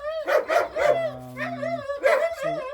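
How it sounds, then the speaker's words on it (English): Several farm dogs bark and yip excitedly in a quick series, close and fairly loud, with whining tones between the barks. "That's what the dogs do whenever I'm around."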